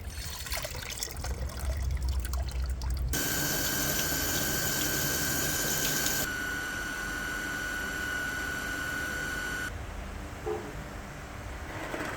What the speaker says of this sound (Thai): อันนี้เป็นขั้นตอนการล้างพื้นที่เผา